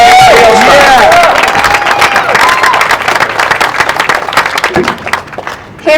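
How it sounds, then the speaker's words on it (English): Crowd at an outdoor Black Lives Matter rally in Albuquerque clapping and cheering loudly, with whoops and shouts over steady applause that gradually thins out, and a voice starting up at the very end. "Let's give her a round of applause."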